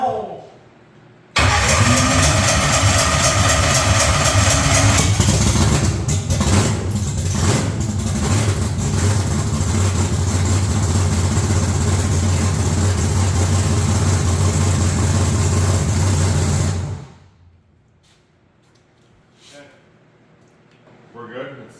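A truck engine cranks and catches abruptly, then holds a loud, rough idle with a few uneven surges for about fifteen seconds before cutting off to near silence. A voice talks briefly at the start and end.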